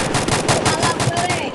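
Rapid automatic gunfire from a Garena Free Fire squad battle, loud and close, with dense repeated shots running through the whole moment and a faint voice underneath.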